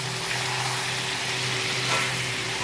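Potatoes sautéing in oil in a pan for a Bengali kosha dish, giving a steady, even sizzle with a faint low hum beneath, close and constant with no voices.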